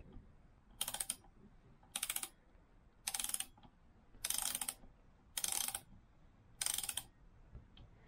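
Ratchet wrench tightening a nut on the fork of a Husqvarna WRE 125 motorcycle, heard as six crisp bursts of rapid clicking at regular intervals, each about half a second long, with quiet pauses between.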